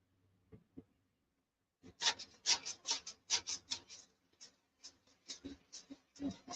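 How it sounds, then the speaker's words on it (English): A white-painted surface is sanded by hand: after a short near-silent start, a rapid run of close, dry rasping strokes follows in an uneven rhythm. "If I can get it all sanded out right."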